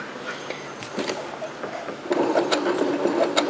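A Brother computerized sewing machine stitching a denim hem, giving a fast mechanical whirring and clicking that grows louder and busier midway, close up and without voices.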